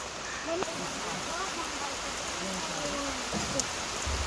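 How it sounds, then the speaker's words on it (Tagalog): Steady rain hisses across the whole clip, a dense even patter with scattered drips, and faint voices murmur underneath. "At least may ulan."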